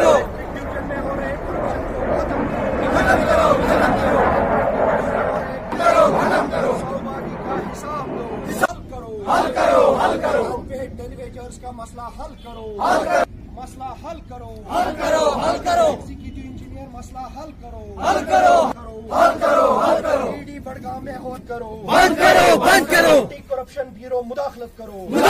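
Electrical employees' union protest demonstration in Budgam: a crowd chants slogans in loud rhythmic bursts separated by short pauses, a single leader's voice alternating with the group's response, sustained shouting throughout.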